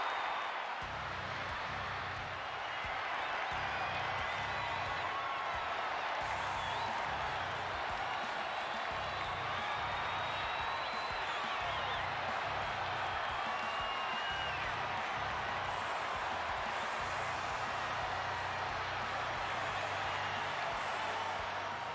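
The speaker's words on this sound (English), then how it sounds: "And just listen to that crowd." Arena crowd noise from a WWE 2K24 wrestling match, a steady dense roar of cheering and whoops that holds throughout at moderate level, with a faint rhythmic thumping underneath.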